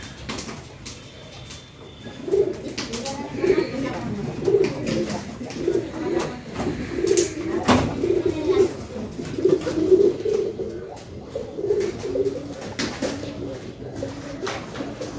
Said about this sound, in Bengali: এখন রাত হয়েছে, সব কবুতর ঘরে আসবে আস্তে আস্তে।